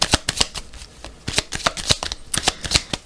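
Oracle cards riffled and cut by hand, a close series of crisp papery flutters and snaps in quick irregular bursts, with no talk.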